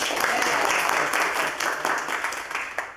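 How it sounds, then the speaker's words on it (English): An audience at a live talk-show taping breaks into sustained applause, a dense wash of many hands clapping at close-to-mid distance, steady and loud for a few seconds before tapering slightly. "Can we all get a round of applause?"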